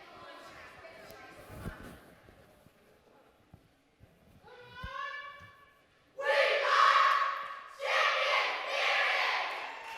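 A group at a Board of Aldermen meeting bursts into a loud, chanted cheer after quiet murmuring and a few spoken voices, with two strong rhythmic waves of shouting near the end.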